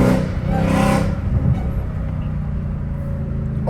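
A McLaren 570 sports car accelerates with a loud, close engine roar whose tone climbs briefly before settling into a sustained heavy drone.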